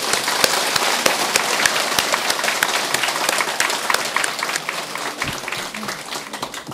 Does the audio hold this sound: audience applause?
yes